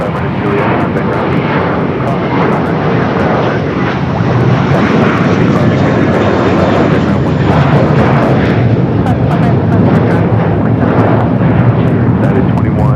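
Jet airliner arriving at LAX, a loud steady roar of engines that holds unbroken throughout, heard from nearby with some wind buffeting.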